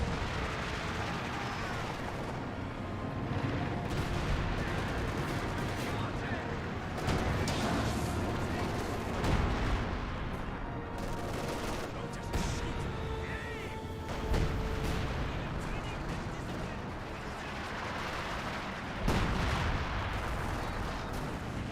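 A Land Mattress rocket artillery barrage in Company of Heroes 2 rumbles on as a dense wash of booms and distant impacts, steady and heavy throughout, with a commentator talking over it.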